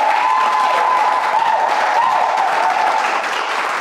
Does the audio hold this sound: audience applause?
yes